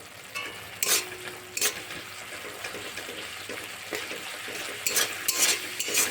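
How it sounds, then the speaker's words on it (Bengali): Dry spices with chili powder and coriander powder fry and get stirred in a pan with a little water. A steady sizzle runs throughout, with several sharp scraping and clinking bursts from the spoon against the pan. "মশলাগুলো একসঙ্গে সব কষে নেব।"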